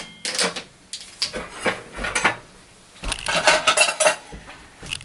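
Utensils clatter and scrape against a bowl while cake ingredients are mixed, with bursts of quick clinking and tapping separated by short pauses.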